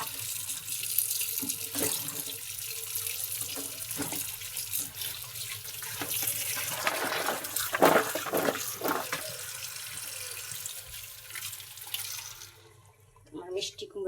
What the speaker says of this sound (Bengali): আমার মিষ্টি কুমড়া ধোয়া হয়ে গেছে